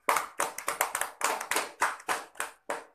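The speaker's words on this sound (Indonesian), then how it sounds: "Bagus, tepuk tangan dulu." A classroom of students claps hands together in short, uneven bursts for about three seconds, close and fairly crisp with no talking.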